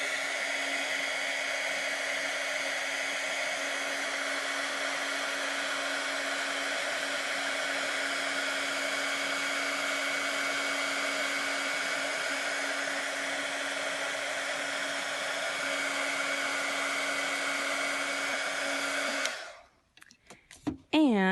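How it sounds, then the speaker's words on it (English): A heat gun blows a steady, close, loud whir with a constant hum while melting embossing powder, running alone for about nineteen seconds before switching off abruptly. "now I'm going to take my heat gun and I'm just going to heat up all of that powder"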